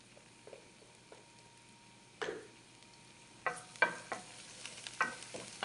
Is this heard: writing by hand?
no